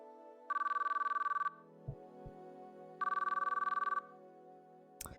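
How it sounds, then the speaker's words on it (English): Phone call ringing tone in the CHAOS;CHILD visual novel on PC: two bright electronic ring bursts about a second long each, separated by a pause, over soft background music. "I turned my phone on again before I could change my mind and then tapped in her number."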